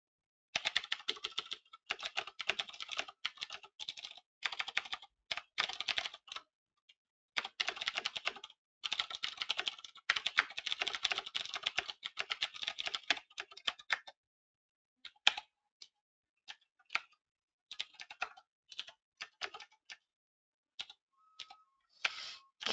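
Fast, uneven bursts of clicky keystrokes on a computer keyboard, close and crisp, with brief pauses between runs of typing.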